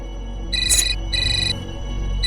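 A phone ringtone plays as an electronic chime in two clear repeated bursts with a short gap between them. It is loud and close against a low background hum.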